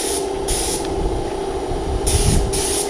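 Etch primer being spray painted onto a car bonnet during a Rover P4 restoration, a steady close hiss of the spray gun running continuously with brief surges of louder, brighter spraying.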